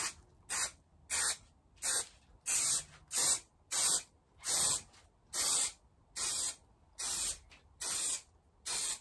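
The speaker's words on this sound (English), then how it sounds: "the foam needs to be sprayed on this side" Spray foam hisses in repeated short bursts onto a Lotus Elan +2 130/5 panel, about fifteen evenly spaced, loud, close-up blasts separated by brief silences.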